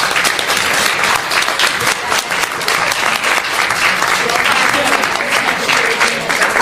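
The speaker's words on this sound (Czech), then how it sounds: "všem můžeme si za to zatleskat" Audience applause at the close of a parliamentary seminar debate on the Istanbul Convention, a loud, steady wash of many hands clapping that continues without a break from start to finish.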